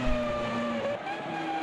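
Formula V10 race cars in a racing video game roar past through an S-bend, a loud close engine whine with a steady high pitch dropping slightly as it passes.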